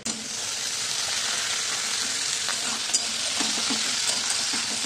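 Ridge gourd frying in a kadai with poppy seed paste gives a steady, close sizzle throughout, with a few soft spoon scrapes and stirs near the end and no talking.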